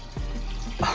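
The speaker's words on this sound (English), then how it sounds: "I hear water running." Water running and leaking from an Ice Barrel 400 makes a close, continuous splashing trickle over one second, with a brief pour or splash at the start and again near the end.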